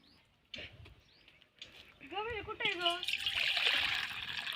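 Hot water pours out of an earthen pot over a wood-fired stove, a splashing trickle that swells into a steady, louder stream. Brief clatters come first, and a few short voiced sounds rise above the water.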